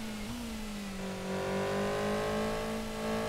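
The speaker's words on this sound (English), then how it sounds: "The only thing I can hear is the engine noise" Rally car engine in the PC game Mobil 1 Rally Championship, a steady mid-pitched drone that climbs in pitch as the car accelerates, heard alone and fairly close.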